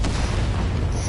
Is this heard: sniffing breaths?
no